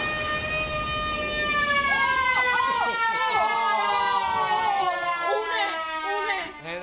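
A hand-cranked alarm siren at a police station winds through rising and falling wails, loud and close, with people talking over it throughout.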